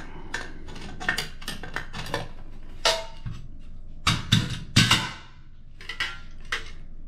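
A metal dust collection blast gate in a woodworking shop is handled and flipped, giving a series of sharp metallic clanks and rattles, close and fairly loud, in irregular clusters with no talking.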